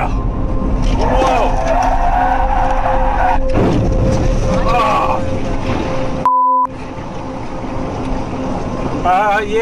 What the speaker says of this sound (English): I've just crashed into a river, dude.